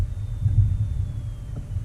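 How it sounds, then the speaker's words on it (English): A Marconi TF1101 signal generator running with its covers off gives a steady, faint low oscillator hum and throb, continuous and alone with no talking. "You might actually be able to hear the oscillator itself"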